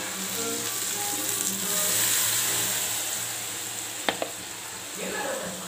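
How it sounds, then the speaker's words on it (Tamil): Herbal powder for homemade hair oil is tipped into hot, boiling oil. It sets off a loud, continuous sizzle and hiss close by, with a couple of sharp clinks of a utensil near the end. "இப்போ எண்ணெய் நல்லா தரன்னு கொதிச்சிடுச்சு. நம்ம இந்த பொடியை கொட்டிடுறோம்."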